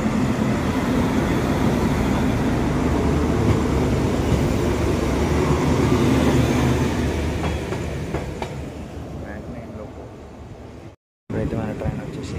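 The 12746 Secunderabad SF Express leaving platform 2 at Dornakal Junction, a loud steady rumble of wheels and carriages heard from on board that gradually eases, with brief rhythmic clatter later.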